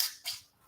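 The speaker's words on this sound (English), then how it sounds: "let's get to popping this bottle" A bottle of Italian sparkling wine is uncorked: two quick, sharp hissing pops in under a second, fairly faint and with no voices.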